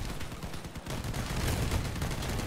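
Vehicle-mounted guns firing in the video game Crossout, a dense, continuous rattle of rapid shots that grows heavier toward the end, with no pauses.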